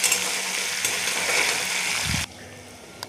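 Ginger paste sizzles and spits steadily in a hot pan while cooking Bengali bhuna khichuri, then the frying noise drops off sharply near the end, leaving a quieter hiss.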